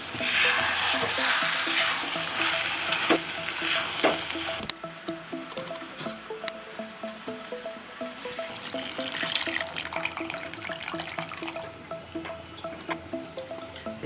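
Mutton masala with chili powder and turmeric fries and sizzles in a pan while being stirred, with wet scraping strokes and bubbling crackle, louder at first and then settling to a steady sizzle.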